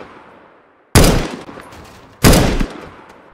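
Two loud, sharp sniper gunshots about a second apart, each bursting from near silence and trailing off in a short echoing decay, close and alone with no talk.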